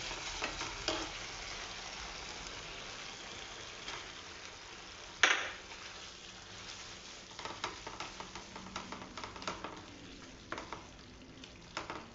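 Ground fenugreek paste sizzling in a pan of paneer and fenugreek curry while being stirred, a soft steady frying hiss with a sharp splatter burst and scraping stirs.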